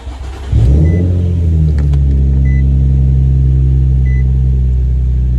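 An Infiniti G35 with a Z1 M-Spec single-exit catback exhaust cranks and fires up, then settles into a loud, steady rumbling idle, close by in an enclosed space.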